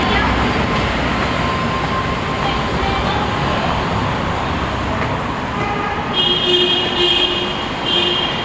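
Metro train noise fills an MRT station: a steady, loud rumble of rail traffic with brief higher squeals near the end, and voices faintly mixed in.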